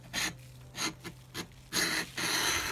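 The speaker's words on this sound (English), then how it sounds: "The first one is the Baco cemented carbide scraper, which you have to be quite controlled about because it's very sharp" A sharp cemented carbide scraper rasps over a boat hull, stripping layers of antifouling paint in short separate strokes followed by longer, harsher sweeps, close and fairly loud.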